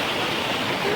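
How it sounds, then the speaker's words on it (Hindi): A natural stream of cold water flows steadily, giving a continuous close rushing hiss through the whole short moment, with no voices. "यहाँ पे एक नेचुरल धारा है, यहाँ पे अभी भी पानी आया है"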